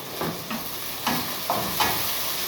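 Chopped onion, garlic cloves and a green chili softening in hot oil, a steady close sizzle with a few soft stirring scrapes, no voices.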